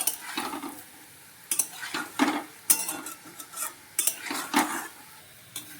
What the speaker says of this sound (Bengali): এরকমভাবে ফুলগুলো সব ভেজে নেবো।